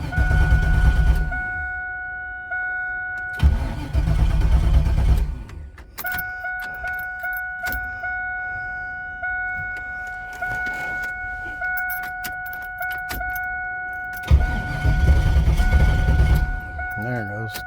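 A 1996 Camaro with a turbocharged LS 5.3 V8 cranks over without firing, the starter grinding in steady bursts between pauses, while a high electrical whine runs underneath; close and loud.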